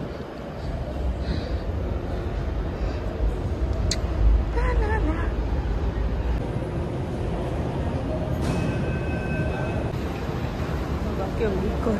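A crowded metro station carries a steady low rumble of a train and platform bustle, with a crowd murmuring throughout and occasional faint clicks and a brief tone.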